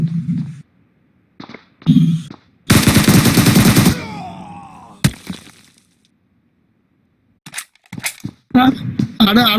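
Loud bursts of rapid automatic gunfire and sharp single shots ring out in a PUBG match, interspersed with silences and voices talking between the volleys.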